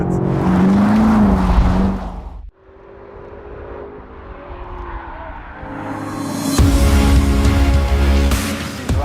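A BMW X5M in sports mode drives hard on the Nürburgring Nordschleife. Its loud engine drones, dips sharply for a moment, then builds and revs up again in a strong, close roar.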